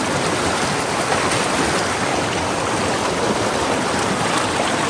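A cold mountain river rushes past in a dense, unbroken roar of flowing water, loud and close, with no voices over it.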